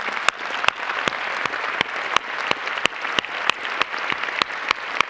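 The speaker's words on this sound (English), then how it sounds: "Let's give them a round of applause." Steady audience applause fills a large hall at a science awards ceremony, dense clapping running continuously for several seconds with no voices over it.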